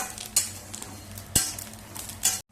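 Mace and stone flower spices fry in a little oil in a pan, giving a steady low sizzle broken by a few sharp scrapes and clinks of a stirring spoon, then a sudden cutoff.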